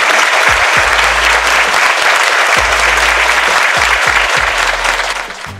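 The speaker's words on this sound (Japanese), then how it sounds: "もう一度盛大な拍手をお願いします。" Loud, dense applause from a large audience after a lecture on LGBTQ awareness, sustained and close, tapering slightly toward the end.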